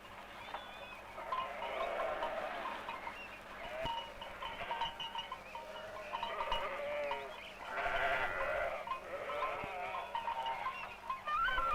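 Sheep bleat repeatedly in a flock in Bursa, Turkey, several overlapping calls at moderate distance over a steady outdoor background, with no talking.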